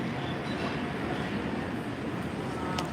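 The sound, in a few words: MBTA Green Line D train arriving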